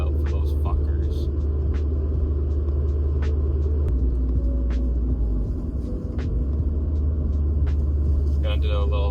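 Car engine at night holding a steady low rumble and throb during heel-toe downshifting, with a brief dip in revs partway through and a few faint clicks above the drone.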